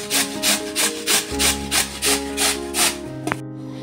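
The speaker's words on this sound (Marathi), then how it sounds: "आता हे मी किसून घेते, किसणीने किसून घ्यायचे" Peeled potatoes are grated by hand on a metal grater in steady rhythmic strokes, about eight rasping scrapes in quick succession, close and clear, then a short clatter as the grating stops.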